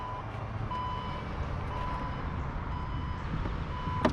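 A Porsche Panamera 4S power tailgate closes by itself to a series of repeated electronic warning beeps over a steady low hum, close by with no talk.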